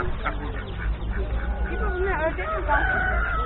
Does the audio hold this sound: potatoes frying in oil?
no